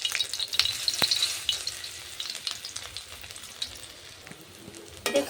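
Water chestnut tikkis fry in hot oil in a wok, giving a close, steady crackling sizzle with scattered pops and a few louder spits, without any voices.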